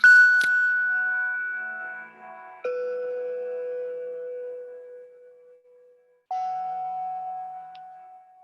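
Soft, sustained synthesized tones from a touch-controlled generative music phone app, three long bell-like notes in sequence, each struck cleanly and ringing out slowly before the next, calm and isolated with no talk.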